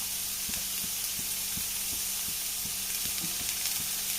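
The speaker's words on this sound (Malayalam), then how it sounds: "വെളിച്ചെണ്ണ ഒന്ന് ചൂടായിട്ടുണ്ട് ഇനി ഇതിലേക്ക് ഞാൻ ഒരു വലിയ സവാളയാണ് ചെറുതായിട്ട് പൊടി പൊടിയായി കട്ട് ചെയ്ത് എടുത്തതാണ്" A large onion, finely chopped, fries in hot coconut oil in a pan, a steady bright sizzle broken by regular soft stirring scrapes, close and alone without voices.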